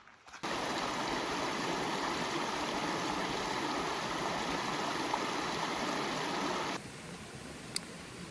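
A creek flows steadily along a wooded trail at Hawn State Park, its broad, continuous rushing wash close and unbroken, dropping a little softer near the end.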